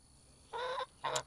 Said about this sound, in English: I tried to take Webster to the pond and leave him with the other geese